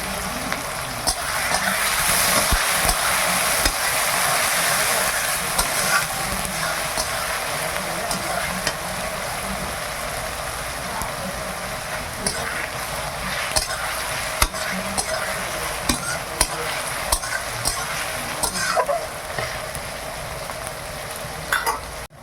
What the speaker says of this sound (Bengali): খুব সুন্দর করে ভাজা হয়ে গেছে পেঁয়াজটা।